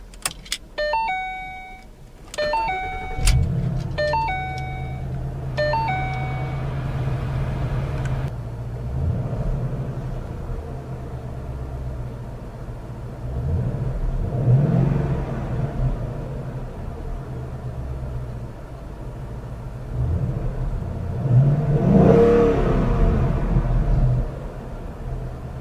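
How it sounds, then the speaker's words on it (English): A 2014 Ford Mustang GT Premium Convertible first gives several dinging chimes, then its engine starts with a deep rumble, idles, and swells through repeated revs, the last one loudest. "let's power on the Mustang and see how it sounds"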